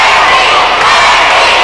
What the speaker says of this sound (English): The crowd starting a chant for Wendi